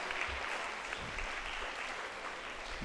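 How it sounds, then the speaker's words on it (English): Quiet, steady applause from an audience at a commerce conference, a soft continuous patter of clapping heard from some distance with no voices. "Let us all put a round of applause for them"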